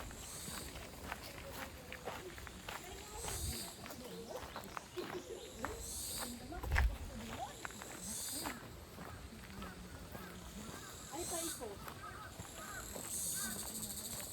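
Crows caw now and then over an outdoor background, with people talking and occasional footsteps nearby.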